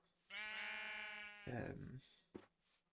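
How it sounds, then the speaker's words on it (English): A sheep in the GregTech New Horizons modpack gives a drawn-out bleat followed by a shorter, rougher one, fairly quiet and alone, with a brief click after. "Nice, there's more sheep there."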